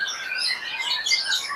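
A white-rumped shama, a songbird kept for singing contests, sings a steady run of bright, varied whistled phrases and chirps, close and clear with no other sounds.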